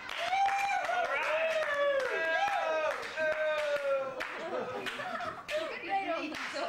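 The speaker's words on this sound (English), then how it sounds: "I think Phil deserves a round of applause." An audience on a Florida holiday claps in scattered bursts of sharp hand slaps, mixed with loud overlapping talk and laughter close by.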